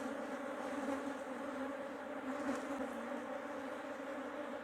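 Honey bees from a swarm being split into a hive buzz in a dense, continuous drone, steady and fairly faint, with many insects humming together and no voices.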